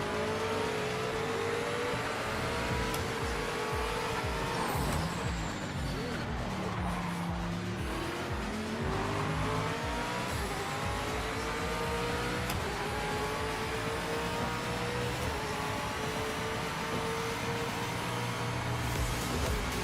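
Race car engines in the video game Project Motor Racing, a league race, roar steadily throughout with revving, gear-shift pitch sweeps and cars passing close by.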